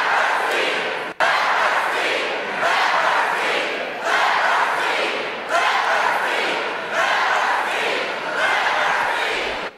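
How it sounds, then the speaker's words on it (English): A large crowd at a speech chants in loud, repeated rhythmic waves of massed voices, each surge roughly two seconds long, continuing steadily throughout. "So then the crowd has to start chanting,"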